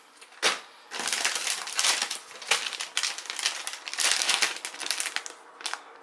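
A plastic bag of maple bacon jerky crinkles and crackles continuously in close handling, with dense irregular rustles and sharper crunches.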